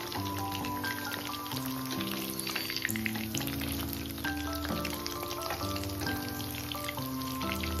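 Chicken pieces deep-frying in oil for Schezwan chicken give a steady bubbling crackle that runs throughout, partly buried under continuous background music.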